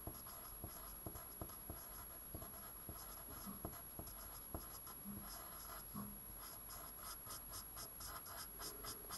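Pen or pencil writing a formula on paper, with steady small scratching strokes and periodic taps, fairly faint and close, no talk.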